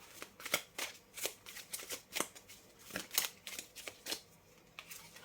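Tarot cards are shuffled and flipped in a quick run of crisp, close riffling snaps and slaps, repeating irregularly for several seconds.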